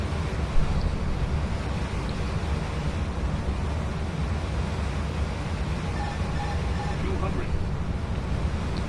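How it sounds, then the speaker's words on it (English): Steady broadband wind rushes throughout, a constant roaring hiss with faint tonal hums, during an ATR 72-600 landing at Barbados in Microsoft Flight Simulator, and a voice talks beneath it. "Extremely windy conditions."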